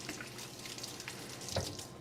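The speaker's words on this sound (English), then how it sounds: "I'm going to give my hands a quick rinse here as they are a tad bit buttery" Tap water running over hands in a kitchen sink during a cooking class, a soft steady splashing flow heard alone at close range.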